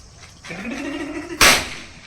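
A rising hiss builds for about a second, then a single sharp firecracker bang bursts loudly in someone's hand and fades quickly, during New Year celebrations at a new house.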